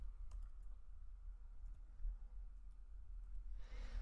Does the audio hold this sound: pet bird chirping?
no